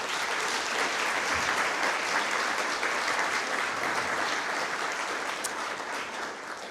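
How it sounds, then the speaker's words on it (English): Sustained audience applause at an alumni awards ceremony honoring practitioners of distinction, a steady wash of many hands clapping for several seconds, moderately distant and fading slightly at the end. "may we have one more round of applause for our 2020 Practitioners of Distinction."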